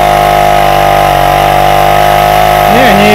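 A Krot motor cultivator engine, winter setup running on snow, roars loud and close in a steady, strained drone whose pitch wavers slightly as it revs.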